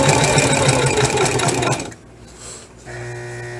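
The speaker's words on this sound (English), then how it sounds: "So this is the last piece I need to stay stitch." A sewing machine stay stitching a fabric piece runs fast and loud for about two seconds, stops briefly, then starts up again, heard close with no talking.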